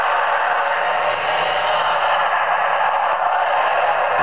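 A custom Nocturne Armory lightsaber fitted with an Igniter R4 sound board plays an effects sound font: a loud, steady, crackling hiss-like buzz that runs continuously without a break.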